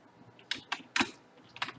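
Computer keyboard keys pressed for level-editor shortcuts in 7 Days to Die Alpha 16, a handful of sharp close clicks in two short bursts with gaps between.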